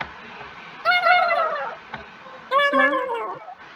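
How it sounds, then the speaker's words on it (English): A voice recording sped up in Scratch so it turns high and squeaky like a chipmunk, heard as two short bursts of chattering sound with a pause between them. "If you make it faster, it sounds like a chipmunk mostly."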